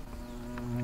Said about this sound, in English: Now look at these bald-faced hornets.